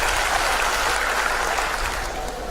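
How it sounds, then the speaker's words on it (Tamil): Audience applause fills a hall during a Tamil pattimandram speech, a steady, even wash of many hands clapping throughout, fairly loud and continuous without talk over it. "ஒரே ஒரு கைத்தட்டலோடு ஒரு வணக்கம்"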